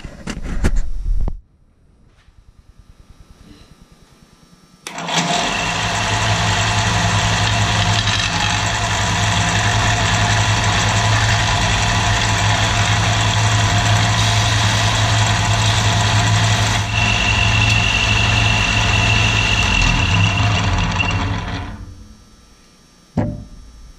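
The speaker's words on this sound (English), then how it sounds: "So I want to hit it with the belt sander and see how that works out." A belt sander grinds a thick-walled steel tube for DIY ladder bars, running as a loud, steady, continuous whine for about seventeen seconds after a short burst and a quieter stretch, then cutting off.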